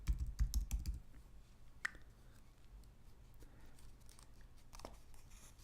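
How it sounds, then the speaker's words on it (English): Quick, close key taps on a computer keyboard form a burst of typing as an email address is entered, followed by sparse, quieter clicks against a faint background. "and then type my email address here"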